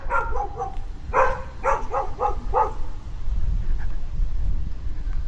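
Several dogs left outside in the heat on a Dallas street bark in quick clustered bursts, moderately distant over steady wind and outdoor rumble, then fall quiet.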